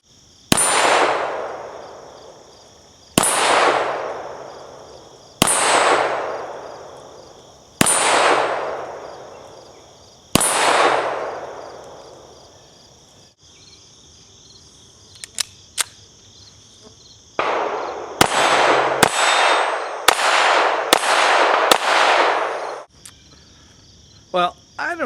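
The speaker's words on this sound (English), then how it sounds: "I don't know how loud this muzzle blast from the 1935A comes across on the camera, but it's banging over here" A French Model 1935A pistol fires five sharp, loud shots spaced a few seconds apart, each with a decaying echo, followed later by a quicker burst of several more shots.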